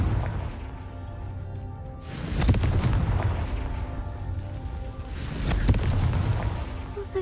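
Two booming blasts from the Confringo fire spell in Hogwarts Legacy, one a couple of seconds in and another a few seconds later, each a loud burst that rolls off over a low, steady background.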